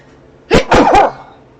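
A single sudden sneeze rings out close and loud in a quiet room, a sharp burst with a quick follow-through, then fades back to near silence.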